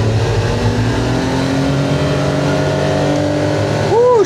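A brand-new 2025 enclosed-cab UTV engine pulls hard and loud, a steady droning growl climbing in pitch as it accelerates, with a brief rising whine near the end.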